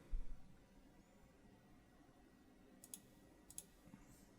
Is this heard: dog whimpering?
no